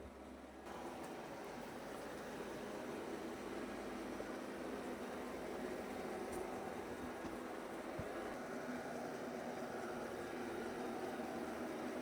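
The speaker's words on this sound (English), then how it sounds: "What you're hearing is the water pump kick on." A Shark mop vacuum's water pump kicks on after a brief quiet moment, then holds a faint, steady whirring hiss with a low motor drone, unbroken and with no talking.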